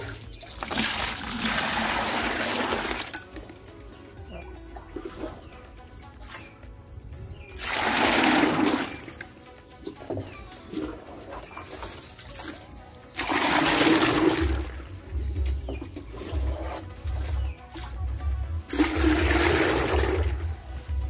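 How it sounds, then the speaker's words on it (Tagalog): Water runs into a sprayer tank in bursts, a rushing gush that starts and stops several times with quieter gaps between, birds faintly audible in the background. "Tapos ito po ating pupunuin ng tubig."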